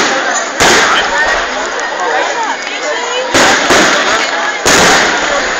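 Fireworks at a fair near a Ferris wheel, with three sharp, loud broadband bursts of exploding shells over a continuous crackling, sizzling wash, people talking throughout.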